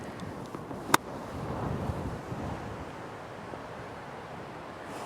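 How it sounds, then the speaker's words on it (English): Steady wind rumbling across the microphone with a broad outdoor wash on a golf course during a tour event, one sharp click near the start, and no talking. "it's so windy here"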